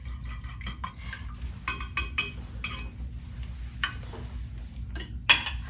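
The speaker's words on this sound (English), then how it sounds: "So you want to whisk this." Eggs and milk whisked together in a bowl, a run of quick metallic clinks and scrapes coming in uneven bursts against a steady low kitchen hum, close and fairly quiet with one sharper clink near the end.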